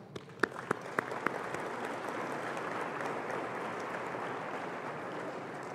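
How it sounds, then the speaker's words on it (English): Applause from an audience gathered at San Ysidro Roman Catholic Church in North County, a dense, steady patter of many hands that swells and holds for several seconds, with a few sharp claps standing out near the start. "Applaud yourselves."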